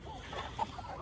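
Hens in a coop being covered against the cold give a few soft, faint clucks, brief and close together in quiet surroundings.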